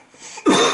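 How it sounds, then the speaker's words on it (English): A sudden loud cough bursts out after a moment of quiet rustling, close by and harsh, followed by a second rough cough. "Oh, you're both just gonna cough."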